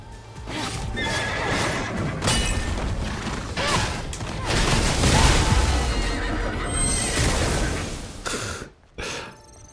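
Horse neighs and whinnies from the Stellar Blade video game, with clip-clop hooves and mechanical clanks over a busy game soundscape, loud and close throughout.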